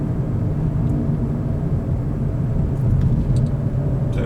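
A manual car cruising in third gear, its engine and road rumble a steady, close low drone with no talk over it.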